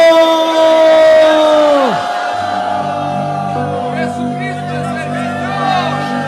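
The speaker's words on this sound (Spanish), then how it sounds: "Ahí atrás también, griten fuerte, Jesucristo es el Señor" A church congregation shouts loudly in unison, a swelling crowd roar of many voices that rises, falls and carries on as a sustained mass of shouting.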